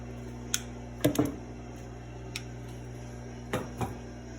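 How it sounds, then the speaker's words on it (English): Wire cutters snip a short piece of nose wire for a homemade fabric face mask, giving a handful of sharp, close clicks spaced apart over a quiet, steady hum. "So I cut a piece of wire with wire cutters."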